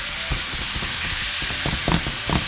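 Small cubes of meat seasoned with salt, pepper and garlic powder fry in a pan, giving a continuous sizzle broken by scraping stirs and spatula knocks that grow busier toward the end.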